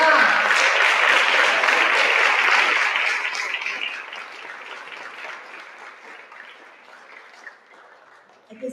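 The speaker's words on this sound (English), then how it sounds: "give all of our awardees tonight a rousing round of applause." An audience at an awards celebration bursts into loud, dense applause that holds for a few seconds, then thins and fades to scattered claps.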